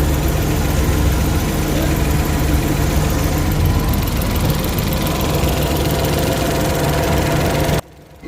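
A Suzuki K6A engine in a DA63 vehicle idles after a general overhaul, a steady, loud mechanical rumble with a faint ticking edge that runs continuously before cutting off near the end.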